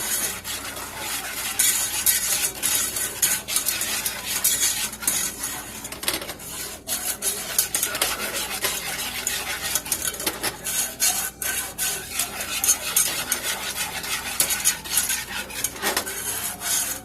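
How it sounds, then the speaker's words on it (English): A spoon stirs a thickening flour mixture for strawberry cobbler in a pot. The rubbing and scraping against the pot is continuous and close, with irregular rasping strokes and occasional metallic clinks. "Okay, so I'm just stirring to combine."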